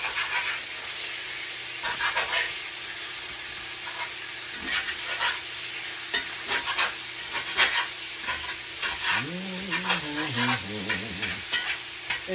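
Cabbage taco filling sizzles and fries in a pan while a utensil stirs and scrapes through it, irregular clacks and scrapes over a steady hiss, close and moderately loud.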